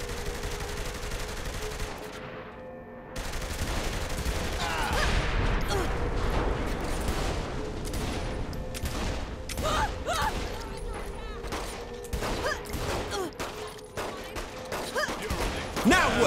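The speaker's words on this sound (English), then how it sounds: "Shooting them probably doesn't help change their minds." Rapid gunfire bursts and single shots in the open-world action game Saints Row: The Third, sharp and repeated across the scene, with a brief pause early on and spoken dialogue over the shooting.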